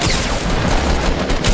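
Dense, sustained gunfire from the Fortnite video game during a rooftop fight, a loud continuous barrage of overlapping shots throughout the short burst with no clear talk.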